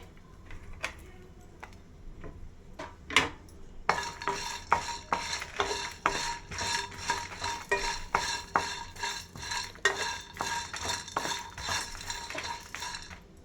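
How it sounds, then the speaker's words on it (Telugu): Garlic and spices roasting in a pan for Andhra-style mutton curry: a few sparse taps at first, then steady rhythmic stirring scrapes and clinks of a spoon against the pan over a low sizzle. "ఇవంతా మనం కొంచెం రోస్ట్ చేసుకుందాం బాగా"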